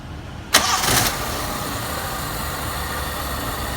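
A Daihatsu Classy car, just fitted with a CDI in place of its Delco distributor, starts with a sharp burst from the starter and catches within a second, then settles into a smooth, steady idle.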